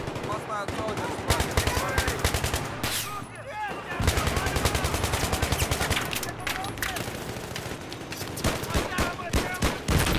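Dense, rapid gunfire from the video game Battlefield rattles almost continuously in loud overlapping bursts, with a player's voice talking over the shooting.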